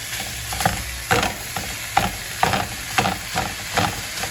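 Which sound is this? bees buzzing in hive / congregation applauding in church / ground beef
ground beef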